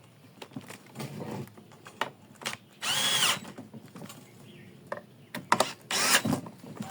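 A power tool tightens the last nut while a four-stroke GX35 grass trimmer is being repaired: short, loud whirring bursts separated by quiet gaps and small clicks of handling.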